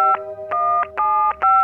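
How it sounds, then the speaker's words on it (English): Telephone keypad tones in a cartoon, six short clear beeps in quick succession with brief gaps, loud and close with no voices over them. "Check out those buttons! I got it! It's one of those phones the humans are always using."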